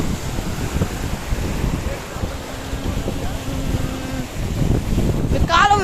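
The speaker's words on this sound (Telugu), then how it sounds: "నీళ్ళు అయితే వరదల్లాగా పొంగుతున్నాయి" Floodwater from heavy rain surges across a road on the route to Nayireddypalem, a rough continuous rushing roar mixed with wind buffeting on the microphone, loud and close, with a brief faint tone in the middle.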